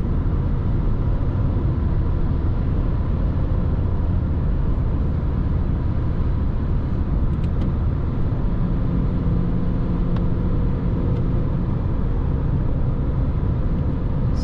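A VW Polo 1.6 TDI with a 7-speed DSG cruises uphill in seventh gear, heard from inside the cabin as a loud, steady low engine and road drone with no voices.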